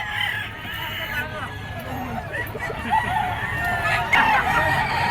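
White-legged Boston Sweater gamecock at a roadside fowl market, crowing and clucking up close while people chatter in the background and other birds call around it.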